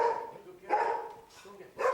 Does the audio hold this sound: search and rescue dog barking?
yes